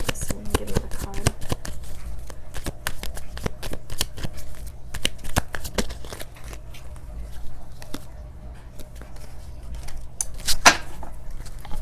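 Tarot cards being shuffled at close range in a rapid, crisp run of riffles and slaps that continues steadily, with a voice talking over parts of it.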